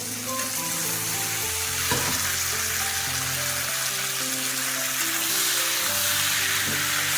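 Chickpeas and potatoes fry in spiced oil with a steady, close sizzle, broken by a few soft stirring clacks. No one speaks.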